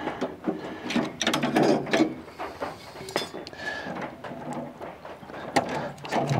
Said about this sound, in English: Next thing we do is take the memory boards out.